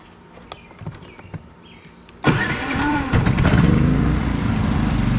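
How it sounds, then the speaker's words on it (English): A generator on a mobile detailing rig cranks and starts partway through after quiet clicks and handling. It then settles into a loud, steady, close engine drone that builds slightly and keeps running. "Generator's on."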